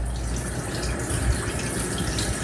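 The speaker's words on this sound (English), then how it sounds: "So now I'm just gonna drain this water off." Water from a pot of boiled pork neck bones poured off into a sink, a continuous close splashing gush lasting a couple of seconds with no talking.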